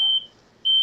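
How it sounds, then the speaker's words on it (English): A clothes dryer gives a high, pure electronic beep alert, two tones separated by a short gap, clear and steady, with no talk over them. "No, that's my dryer."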